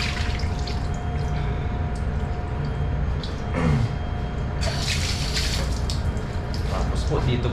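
Water is poured in while a meal is being prepared at home, making a continuous splashing rush with brief surges, close and fairly loud.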